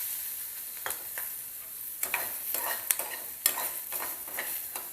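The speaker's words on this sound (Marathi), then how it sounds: "कांदा पण चांगला लाल होईपर्यंत परतून घ्यायचा आहे" Onion sautés in oil over high heat until reddish, a soft steady sizzle broken by repeated spoon scrapes and stirring strokes that come in brief bursts.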